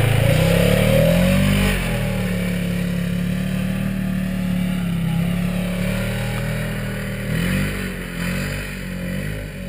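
A Polaris RZR off-road vehicle engine drones loudly and close, its pitch rising as it accelerates, then settling into a steady rumbling run with a brief second surge near the end.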